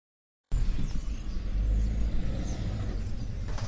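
A car drives past with a low, steady engine rumble and road noise, fairly close and continuous after a short stretch of silence at the start; no voices.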